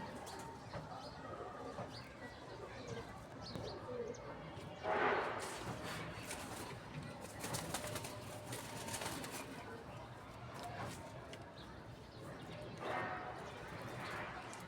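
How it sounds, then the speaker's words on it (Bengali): Soft cooing from pigeons, including a male bird, kept at home, repeating faintly through a steady background with a short louder burst near the middle. "এই হলো নর কবুতরটি।"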